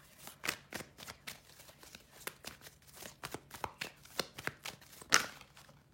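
Tarot cards being handled and shuffled by hand, a quick irregular run of soft riffling flicks and taps, close and fairly quiet, with no talking over them.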